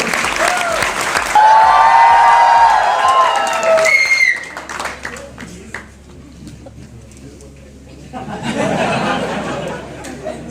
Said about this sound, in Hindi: एक बार फिर से जोरदार तालियां सुनते हैं आदरणीय रामपाल यादव जी को।